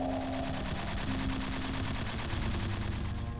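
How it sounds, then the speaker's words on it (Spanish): Rapid bursts of gunfire rattle on steadily, a dense, continuous volley heard from some distance. "el estruendo de disparos rompió el silencio"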